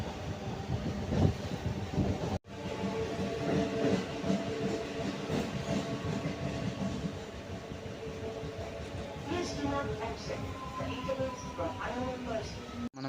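A MEMU passenger train rolling along after leaving a small station stop, heard from inside as a continuous loud rumble with rhythmic clickety-clack of wheels over rail joints, broken by a brief dropout.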